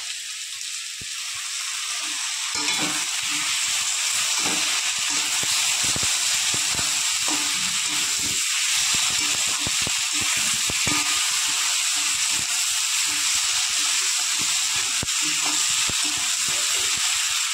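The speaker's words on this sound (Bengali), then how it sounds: "পেঁয়াজটাকে ভেজে নিচ্ছি আর আদা রসুনটা একটুখানি কষিয়ে নেবো" Chopped onion frying with ginger-garlic paste in a pan, giving a steady close sizzle and hiss that runs continuously, with small clinks and scrapes scattered through it.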